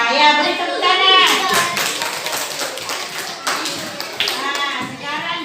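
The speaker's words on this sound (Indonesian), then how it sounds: "beri tepuk tangan" Children in a classroom clap together after singing about planting corn, a loud, brisk burst of hand claps and taps mixed with chattering young voices and an adult speaking.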